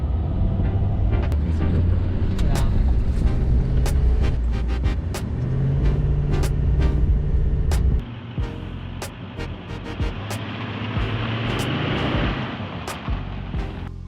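A diesel truck fitted with a BD Diesel Throttle Sensitivity Booster driving on the road, steady close engine rumble and road noise from inside the cab, with some rattles and a shift in tone partway through.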